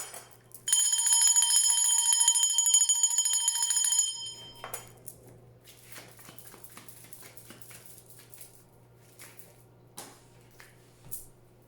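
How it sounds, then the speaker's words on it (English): A bell is rung, giving a bright, sustained metallic ring for about three seconds. It fades into a quiet room with faint low hum and scattered small knocks. "So I'm gonna ring the bell for that angel number 2020."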